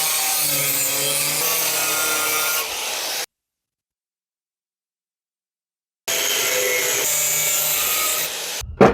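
Hand saw cuts through square scrap metal stock in continuous, loud, close rasping strokes, stopping abruptly for a few seconds of silence, then resuming with the same steady grinding rhythm.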